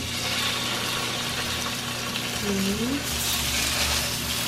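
Steady, dense crackling sizzle of chicken frying in hot oil, with a brief faint voice murmuring partway through.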